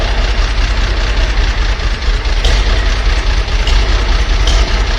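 A Farmall tractor engine idles steadily nearby, a continuous low rumble with a few faint knocks riding on top.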